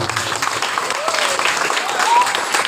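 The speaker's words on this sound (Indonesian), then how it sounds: "Tepuk tangan buat Bapak Lurah" Audience applause for the village head at an Islamic sermon gathering, a steady wash of many hands clapping over about three seconds, with a faint voice running beneath it.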